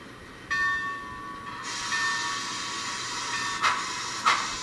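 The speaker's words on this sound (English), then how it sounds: "Crazy Spud, the Heisler does run, it's just very noisy because it's an old Rivarossi" An old Rivarossi Heisler model locomotive runs noisily, giving a steady, fairly faint hissing mechanical whir with a brief high whine early on and a couple of sharp clicks near the end, no talk.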